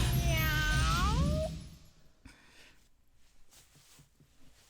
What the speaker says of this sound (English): Cats everywhere.